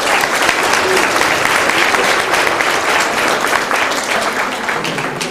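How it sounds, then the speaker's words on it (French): An audience at a Téléthon evening applauds the volunteers with loud, dense, sustained clapping that fills the whole stretch, a crowd murmuring faintly beneath it. "On peut applaudir tous les bénévoles qui ce soir vont œuvrer pour vous"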